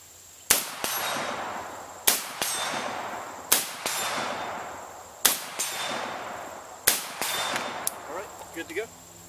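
Rifle shots at an outdoor range during zeroing of an AR rifle with a 1x prism scope, five sharp cracks spaced about one and a half seconds apart, each followed by a ringing metallic clang from a distant steel target, then faint talk at the end.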